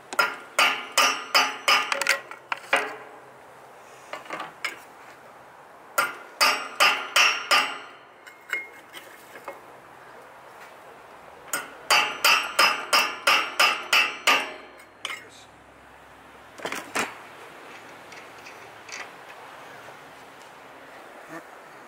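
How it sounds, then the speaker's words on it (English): Bursts of sharp, rapid hammer blows ringing on metal during engine work on a Bobcat 310 loader, fired in quick clusters with short pauses between, loud and close. "Whack it with a hammer."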